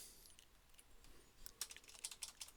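Quiet clicking keystrokes on a computer keyboard, a few scattered taps at first and then a quicker run of close, crisp key presses toward the end, with no talk.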